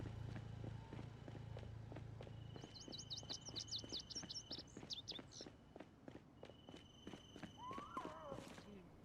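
Ambient outdoor soundscape in the zombie survival game Project Zomboid: rhythmic footsteps throughout, with bright high bird chirps and tweets layered over them, faint and steady, and a longer bird call near the end.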